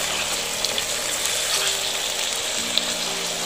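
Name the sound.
beef strips sizzling while pre-cooking in a sauté pan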